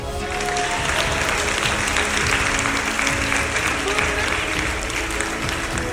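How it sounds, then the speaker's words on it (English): Guests at a corporate after-dinner magic show break into loud, continuous applause, with voices and cheers mixed into the clapping throughout. "she's going to go absolutely wild with applause"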